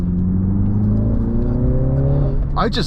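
A 2024 MINI Clubman JCW wagon accelerates hard out of a corner in sport mode, engine note rising steadily and loud from inside the cabin, with a brief burst of voice near the end.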